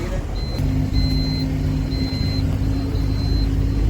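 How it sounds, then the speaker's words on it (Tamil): A bus door-open alert on an Erode-to-Mysore bus chimes repeatedly in short, evenly spaced high beeps over the steady low rumble of the idling bus engine. "Beep sound கேட்குதாருங்க. ஸோ டோர் ஓப்பனில் இருக்கனால அந்த அலர்ட் கொடுக்குது."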